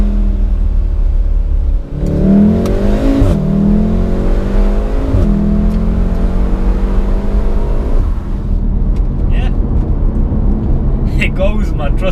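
A VW Golf R engine revs hard and accelerates, its loud, close drone climbing in pitch through a couple of gear changes over constant road roar, then settling into a steady cruise.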